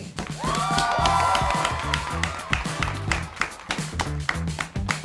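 A crowd claps and cheers to welcome missionary John Choi on stage, with rhythmic clapping and taps over a lively, noisy room.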